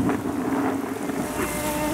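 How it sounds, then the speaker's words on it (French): A sailboat motoring back into harbour near Nauplia, Greece: a steady engine hum mixed with wind buffeting and water wash, close and continuous throughout. "c'est un voilier, mais il rentre au moteur"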